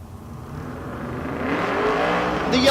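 An Outlaw Street class Monte Carlo drag car making a pass at Tulsa Raceway Park, its engine roar building steadily in loudness and pitch over a few seconds, heard alone without talk.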